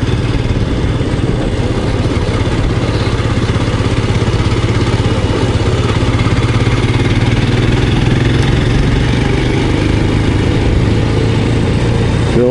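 A Royal Enfield Scram 411, a small, low-seated trail motorcycle, runs steadily with a constant low engine drone and a rumbling mid-range throb. The sound continues unbroken with no other sounds over it.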